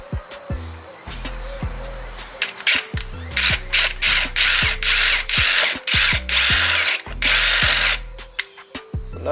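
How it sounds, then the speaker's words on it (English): Power drill boring through car speaker mesh in a 2013 Ford Fusion, whining in repeated short bursts with grinding, rasping bites and brief pauses between pulls. "I'm gonna drill through this mesh"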